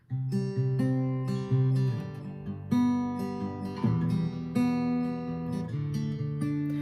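Guitar strings picked in quick repeated patterns, notes ringing and overlapping, played clearly and close.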